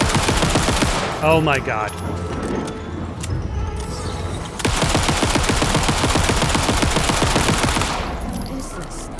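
Rapid-fire weapon bursts in the video game Alan Wake 2 come as loud, dense, fast trains of gunshots with a short pause, while a voice speaks briefly partway through.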